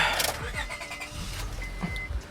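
A used car up for auction preview in Sacramento, with about 134,000 miles, is started: the engine cranks and catches, then idles steadily under faint background noise.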